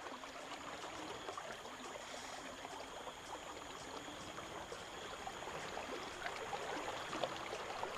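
A jungle stream below cascades in South America, a continuous soft trickling and gurgling flow, fairly faint and steady, with faint high insect-like tones above it.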